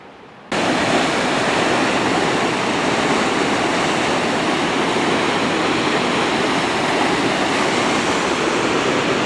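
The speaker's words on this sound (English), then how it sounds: "Here at the upper falls of the McCloud River, there's a middle and lower falls as well." The upper falls of the McCloud River pour over lava cliffs into a punch bowl pool with a loud, steady, full-bodied roar. The rush starts suddenly and continues unbroken, with no voices.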